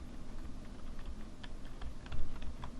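Keystrokes on a computer keyboard as a password is entered during server setup, a quick irregular run of light clicks over steady low room hum, with no talking.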